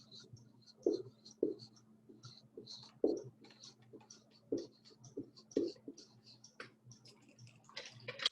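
A pen or marker writes a number bond at a first-grade lesson, producing faint scratchy strokes and taps at close range in irregular bursts over a low steady hum.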